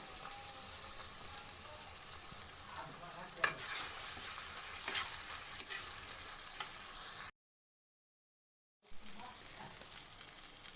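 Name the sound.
sautéing spices with ginger paste, turmeric, chili powder, fenugreek leaves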